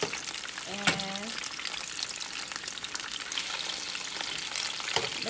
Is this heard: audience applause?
no